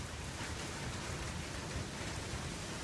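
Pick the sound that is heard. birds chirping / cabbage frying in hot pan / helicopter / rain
rain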